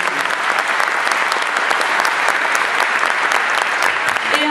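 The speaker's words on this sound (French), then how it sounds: "Vous pouvez l'applaudir quand même." Loud, dense applause from a theatre audience at the opening night of the Clermont-Ferrand International Short Film Festival, sustained and even throughout, with a few brief voices mixed in.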